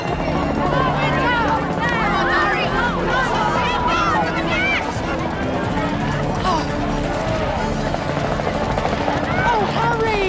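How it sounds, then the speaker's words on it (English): A helicopter's rhythmic rotor chop fills the background while several people talk and shout excitedly over it. "Hey, a helicopter."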